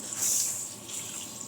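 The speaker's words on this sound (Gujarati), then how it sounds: "1 કપ પાણી ઉમેરીશું" About a cup of water is poured into one and a half cups of sugar to start a sugar syrup for a coconut sweet, heard as a short, steady splashing rush close by.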